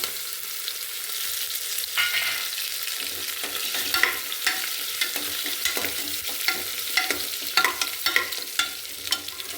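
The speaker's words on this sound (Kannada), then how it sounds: "ಇವಾಗ ಕುಟ್ಟಿಟ್ಕೊಂಡಿರೋ ಬೆಳ್ಳುಳ್ಳಿ ಹಾಕ್ತಾ ಇದ್ದೇನೆ" Crushed garlic frying in a pan for methi rice, a steady loud sizzle with spoon scrapes and stirring clatter throughout, close and continuous.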